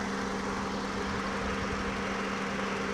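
An automatic Toyota Camry converted to run on CNG idles with a steady, even engine hum and a constant low tone, heard from the engine bay with no talking.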